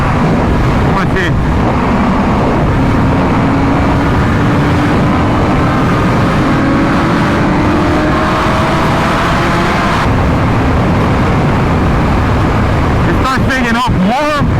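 A BMW S1000RR and M1000RR track bike under way, a dense, loud engine drone with rising harmonic sweeps as revs climb, wind rush mixed in and a rider talking over it throughout.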